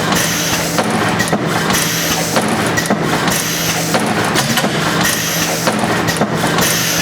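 A servo pusher pleater machine runs steadily, clunking down in a regular, repeating rhythm over a constant mechanical hum, loud and close.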